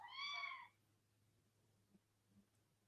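A single clear cat meow, short and faint, followed by quiet low background hum with a couple of soft knocks.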